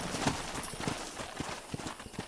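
Hooves clip-clop at a walking pace in the video game Red Dead Redemption, several horses stepping unevenly close by, with no voices.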